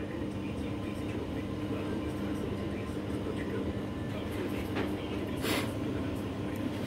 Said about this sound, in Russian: Дымосос работает